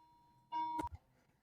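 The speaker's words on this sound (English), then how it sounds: "sorry, my doorbell's ringing" A single electronic chime rings out briefly, a clear tone followed by a soft thump, in an otherwise quiet room.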